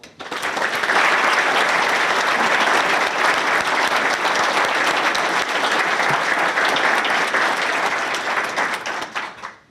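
A city council meeting crowd gives sustained applause, a dense, even roar of many hands that swells quickly, holds for about nine seconds and then fades.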